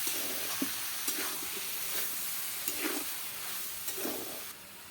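Mixed vegetables being stirred in a pan as they fry, soft sizzle throughout with a few distinct scraping stirs of the spoon, fairly quiet and without talk.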